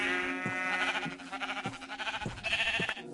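Sheep bleating in a video game, a chorus of repeated, wavering bleats with soft thumps in a steady rhythm, loud and close, with no talk.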